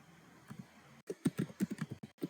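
Keys clatter on a computer keyboard in a quick run of distinct taps after a brief pause, with faint low room hum beneath and no voices.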